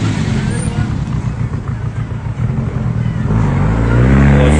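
Classic car engine revving at the start of a Turkish classic automobile championship rally, a steady loud motor roar with crowd noise that builds into a heavier rev near the end.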